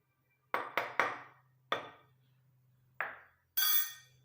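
Roasted ingredients are tipped into a mortar and struck with a pestle: about six separate hard knocks in an uneven rhythm, each ringing briefly, ending in a bright rattling scrape, all close and alone.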